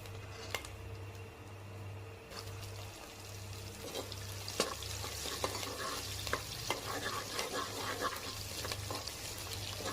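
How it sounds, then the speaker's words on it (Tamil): Garlic and green chilies fry in a pan with a soft, continuous sizzle, interrupted by repeated scraping stirs and clinks from the spoon, and a low hum running underneath. "பூண்டு நல்லா பொன்னிறமாக வறுத்த உடனே பச்சை மிளகா ஒரு 6 கட் பண்ணி சேர்த்துக்கோங்க"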